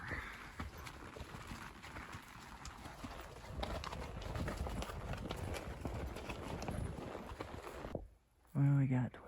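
Horses' hooves clop steadily along a thick backcountry trail on an elk and deer hunting trip, a continuous rustling walking rhythm under some talk, broken near the end by a short pause and a louder burst.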